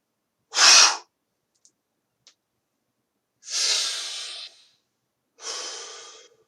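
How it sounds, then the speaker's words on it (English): Forceful qigong mouth breathing done sitting in horse stance: a sharp, loud exhale burst, a faint click, then two longer rushing breaths a couple of seconds apart, close and alone. "This is mouth breathing too."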